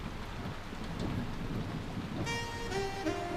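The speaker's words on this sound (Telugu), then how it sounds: "వర్షం భయంకరంగా పడుతుంది." Heavy rain pours down steadily as a dense, continuous hiss with a low rumble, and partway through a tonal musical sound rises over the downpour.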